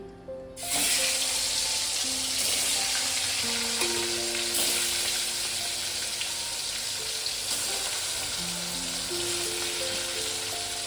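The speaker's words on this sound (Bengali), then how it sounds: "এবার মাছটা আমি ভাজতে দিয়ে দেবো।" Rohu fish pieces coated in salt and turmeric hit hot oil in a wok: after a brief quiet moment, a loud, close, continuous sizzle erupts and holds steady, with faint tonal sounds drifting in the background.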